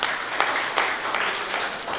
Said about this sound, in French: Et on applaudit également Koulibaly Sindou